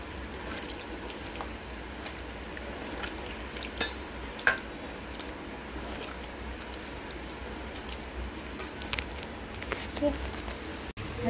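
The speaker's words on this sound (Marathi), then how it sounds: "आणि हे सगळं ह्याला मॅश करून घ्यायचं ओके हाताने." Chicken being mashed and mixed by hand with masala paste of cashew, coconut and curd, giving soft, wet squishing and stirring sounds with occasional drips, steady and close.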